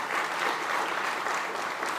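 Audience applause at the All Things Food summit at SXSW 2025, a steady wash of many hands clapping that holds evenly throughout without a break.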